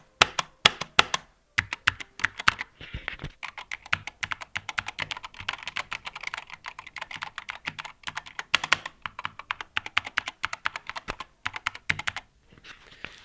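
Rapid clacking of a SteelSeries Apex Pro TKL magnetic gaming keyboard, keys struck in quick irregular bursts with a few short pauses, close and crisp.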